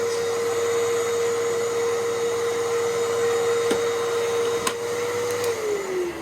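Fantom Fury vacuum cleaner running continuously, a loud close motor drone with a steady high whine that sags slightly in pitch near the end, with a few faint knocks and no speech.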